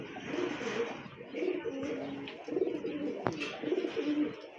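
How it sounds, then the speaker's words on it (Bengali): Lahori pigeons give soft, repeated rhythmic cooing in low rolling phrases, moderately close, with a sharp click partway through. "আর এক জোড়া লাহোরি কবুতর"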